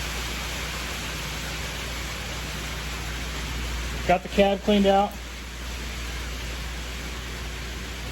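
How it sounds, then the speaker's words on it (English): Hail pounds a vehicle's roof during a truck teardown, a steady loud hiss-like rattle throughout, with someone talking briefly over it. "It's hailing, and it's really loud."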